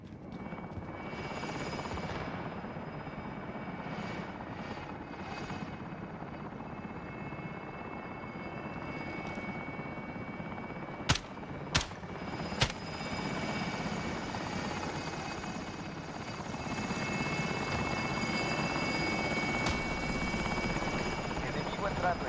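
A helicopter in the Warzone video game makes a steady rotor drone that fills the scene, with a few sharp clicks partway through and the drone swelling slightly louder toward the end.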